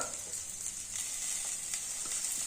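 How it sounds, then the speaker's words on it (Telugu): Cauliflower and green chillies fry in oil in a pan, a steady close hiss of sizzling that runs without a break, with a few faint stirring clicks and no voices. "బాగా వేయించుకోనండి ఈ కాలీఫ్లవరు దీనికి ఆయిల్ ఉంది కదండి సరిపోతుంది"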